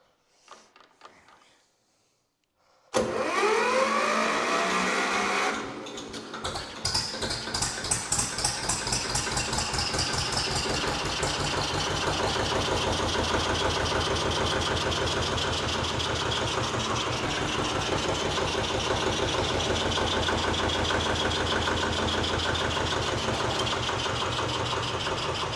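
A Zetor 25 tractor engine fires up after repair, following a few seconds of near silence, then settles into a steady, loud, close diesel idle with a slightly knocking, pulsing rhythm.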